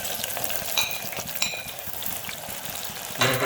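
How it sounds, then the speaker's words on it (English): One medium onion sautés in hot oil for mutton kabsa pulao, giving a steady, close sizzle and crackle with occasional stirring scrapes and no talking. "Now oil is hot, so we're gonna add the onion."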